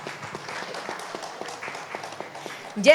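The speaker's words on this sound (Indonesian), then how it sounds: "Tepuk tangan dulu untuk Pak Kadis kita." Scattered clapping from a seated audience at a city public-service mall anniversary ceremony in Yogyakarta, greeting the head of office, steady and moderate with a voice talking over it and a brief louder burst at the end.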